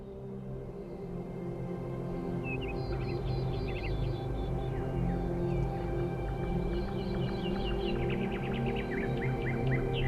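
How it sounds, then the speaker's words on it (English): Birdsong in a video game, heard outside an enclosed dome: scattered chirps and short tweeting phrases over a steady low ambient hum, moderately distant and continuous. "Do you hear the birds chirping outside the dome?"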